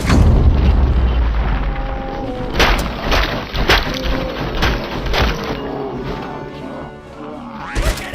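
A breaching explosion in the Robocop: Rogue City video game, heard as a loud low boom at the start followed by a string of sharp blasts and crashes over rumbling game sound.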